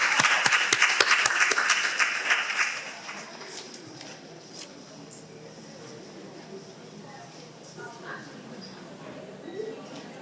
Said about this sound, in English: Let's give a round of applause for Ms.